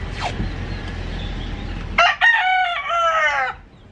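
A rooster crows loudly and close by, one full drawn-out cock-a-doodle-doo rising and falling over about a second and a half, following a brief squawk amid low background rumble.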